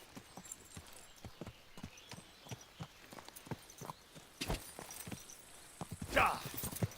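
Steady clip-clop of horse hooves at a riding pace in the medieval game Kingdom Come Deliverance 2, evenly spaced and moderately close, with a brighter clatter and scrape near the end.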